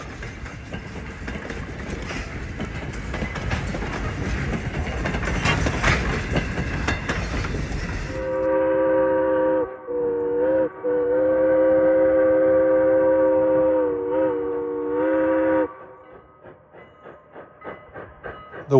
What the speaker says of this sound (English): Those 6-chime whistles could be found on a lot of SP steam locomotives, especially the 4400 class 484s.